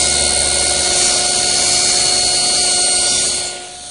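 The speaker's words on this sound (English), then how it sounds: "I've set up to make the miter on the stiles first." A table saw with its blade tilted to 45 degrees cuts a miter on a wooden stile against a stop block, a loud, steady whine that holds for about three and a half seconds before tapering off.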